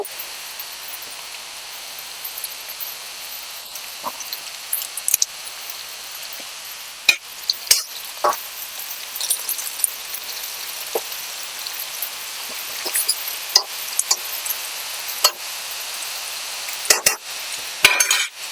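Curry leaves frying in a pan for a cucumber and brinjal chutney, a steady soft sizzle with occasional stirring clinks and scrapes throughout, no voices.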